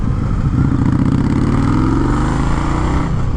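An Indian Scout Bobber motorcycle, an American-made bike of about 100 horsepower and 530 pounds, rumbles loud and close with a steady, throaty engine note that swells slightly as it revs, with no talk over it.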